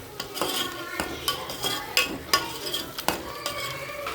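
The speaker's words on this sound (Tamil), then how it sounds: "நல்லா கிளறிடலாம்" Chilli, coriander and garam masala powders are stirred in a frying pan for brinjal biryani, with a spatula scraping the metal in repeated close strokes over a soft, steady sizzle.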